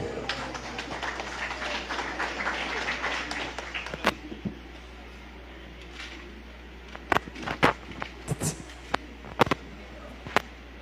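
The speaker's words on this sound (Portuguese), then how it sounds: "se sente dando glória a Deus e aplauda o Senhor" A church congregation applauds during an evening communion service, a dense wash of clapping that fades after a few seconds, followed by scattered sharp knocks and quieter room noise.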